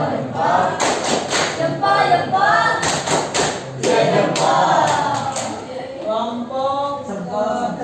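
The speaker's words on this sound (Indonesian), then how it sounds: "Tepuk tangan. Kasih tepuk jempol." Students in a high school classroom clapping in short, loud bursts of rhythmic applause that start and stop, with a teacher's voice speaking and calling out between the bursts.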